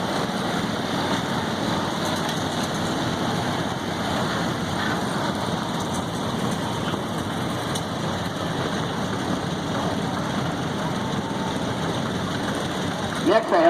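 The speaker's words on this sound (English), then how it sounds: "Next we have a McCormick Farmall Cub." A McCormick Farmall Cub tractor rolls by in a tractor parade at the 2017 Yankee Engine-uity Show, its engine running steadily for the whole stretch under dense outdoor crowd noise.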